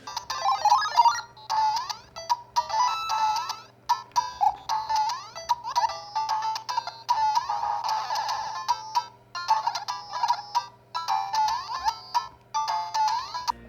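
Chiptune video game music and bleeps play from a cheap handheld knockoff emulator console, bright, busy beeping melodic notes in short phrases over a faint steady hum, with no talk.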